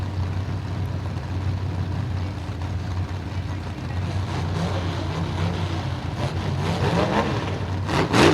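Demolition derby cars at the 2019 Bash For Cash idle and rev in a continuous rough engine rumble that grows louder toward the end, with no talk.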